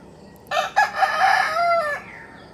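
A rooster crows once, loud and close, a long drawn-out cock-a-doodle-doo with a quick clucking lead-in.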